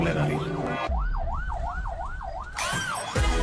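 An ambulance siren wails loudly in quick, regular up-and-down sweeps for a couple of seconds, framed by stretches of other noise and voice before and after.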